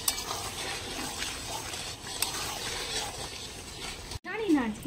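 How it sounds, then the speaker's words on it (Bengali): Cauliflower masala is stirred and sautéed in a pan with a steady soft sizzle, scraping and occasional metallic clinks of the spoon against the pan, while voices murmur faintly in the background. "এখানে ফুলকপির মশলা কষানো চলছে"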